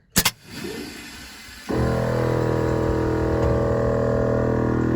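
Maxx D drop-and-load air ride trailer raising back up: two quick clicks, a low hiss, then a loud, steady mechanical hum and rush of air that keeps running.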